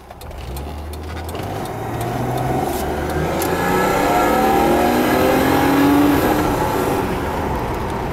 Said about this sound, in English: I'm going to do a little bit of a longer test drive here.